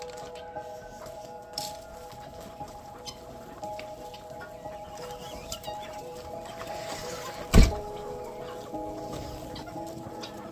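Chickens cluck around a morning farmyard with ducks and puppies, a steady scatter of soft clucks and calls at moderate distance, with one sharp louder knock partway through.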